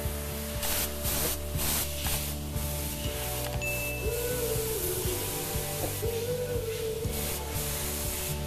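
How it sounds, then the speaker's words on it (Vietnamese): A compressed air blow gun blasts through a clogged CNC machine spindle, a steady close hiss of rushing air over a low mechanical hum, with a few faint metallic clinks and no voices. "Đầu kia chúng ta sẽ sử dụng vòi hơi này. Bạn sẽ xịt nha"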